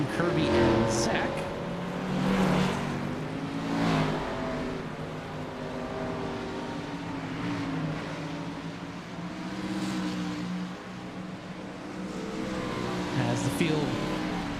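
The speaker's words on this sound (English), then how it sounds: "everyone else getting their cars lined up and ready to race as the field drives off the pit road" NASCAR Xfinity stock cars roll off pit road behind the pace car at Homestead-Miami Speedway before the race, a steady moderate engine drone with slight revving, heard under continuous commentary.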